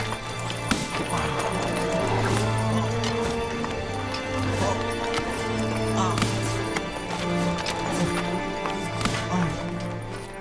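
Horse hooves clip-clopping steadily on hard ground amid a tense crowd scene, rapid repeated knocks under a sustained low drone, close and busy.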